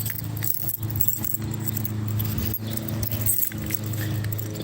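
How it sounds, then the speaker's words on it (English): Metal keys jangle and clink close by, with a steady low rumble throughout, likely an idling car engine or other outdoor machinery beneath the rattling. "Let me grab my keys. Yep, I got them."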